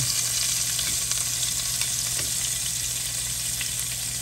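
Shrimp deep frying in a pot of hot oil, a steady, loud, close bubbling sizzle that continues without break and with no talking.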